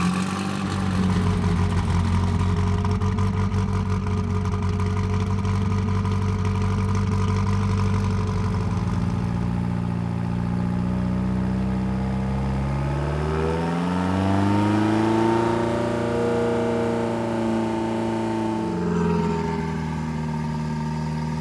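An SSC Tuatara supercar engine revs through long rising and falling sweeps, climbing in pitch, dropping, then surging again, loud and sustained, heard from inside the car with no voices.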